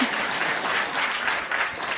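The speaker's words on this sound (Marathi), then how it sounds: "तुम्हाला खूप टाळ्या वाजवाव्या लागणार आहेत" Audience at a World Parkinson's Day gathering breaks into steady, dense applause, a continuous wash of clapping that holds evenly throughout without any voices.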